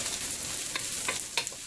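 Onion stir-frying in a pan over high heat for an Indo-Chinese vegetable Manchurian, a steady close sizzle with a few sharper crackles and stirring scrapes.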